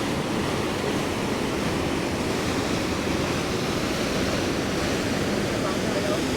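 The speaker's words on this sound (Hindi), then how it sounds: "पानी का बहाव जो है वो इतना तेज़ है" Fast-flowing mountain water rushes at Surya Kund near Gangotri, a loud, steady roar of torrent and spray that fills the whole clip without pause, with no voices over it.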